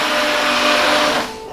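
A blender whirs loudly and steadily as it purées squash soup, then winds down near the end.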